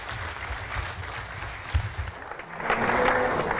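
Audience applause at the inauguration of a TETFund standing committee on research and development, steady broadband clapping from a hall crowd that swells louder toward the end.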